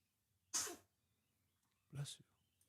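Two sneezes several seconds apart, each a sharp loud burst. The first is breathier and the second lower and throatier, with near silence between them.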